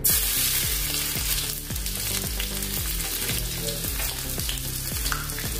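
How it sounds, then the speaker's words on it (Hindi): Lightly crushed unpeeled garlic crackles and sizzles steadily in hot oil for tempering, a loud bright hiss up close, with a soft repeating rhythmic thump underneath. "तड़के के लिए मैंने तेल लिया है गरम करके। अभी इसमें डालेंगे छिलके सहित लहसुन।"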